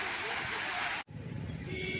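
Rushing water of a waterfall at Kolli Hills roars as a dense, steady hiss, then abruptly cuts to a quieter, lower wash of water with a faint voice underneath.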